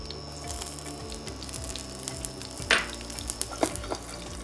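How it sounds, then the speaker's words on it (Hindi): Green chilies dropped into smoking-hot mustard oil sizzle and crackle steadily, with a few sharper spits and stirring scrapes standing out near the end; no talking. "जैसे मस्टर्ड ऑयल स्मोक हो जाए उसके अंदर सीधा डालेंगे हरी मिर्च।"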